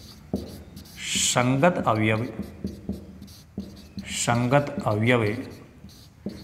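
Chalk or marker scratching on a board during a Class 12 maths lesson on matrices, with faint writing strokes under a teacher speaking in Hindi.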